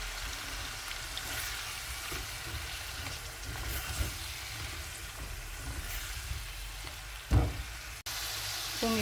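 Mushrooms sauté in a fried spice paste for a prawn curry, a soft, continuous sizzle close by with a few light knocks of stirring.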